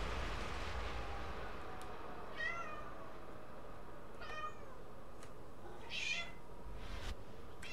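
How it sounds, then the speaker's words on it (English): A pet cat meows three or four times, drawn-out and fairly close, over a steady low background rumble with a few faint clicks. "Shout out to my cat, who's yelling."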